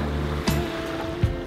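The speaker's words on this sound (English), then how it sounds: "The boat is going very much like this, from one to the other side, because the waves come from the back" Waves wash against a rolling sailing boat at sea, a steady rushing swash with two brief thumping slaps, no talk.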